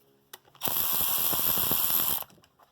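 A ratchet tightens bolts during a transmission install on a Hisun 250, giving a loud, fast, continuous clicking run of about one and a half seconds, framed by a couple of sharp metallic taps before and after.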